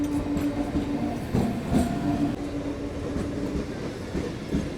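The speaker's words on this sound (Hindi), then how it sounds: "इतनी छोटी ट्रेन थी भाई, इतनी आगे खड़ी हो गई है।" Small express train pulling into a railway station in Bihar, a steady rumble of rolling wagons with light clickety-clack and faint wheel squeal, close and continuous without speech.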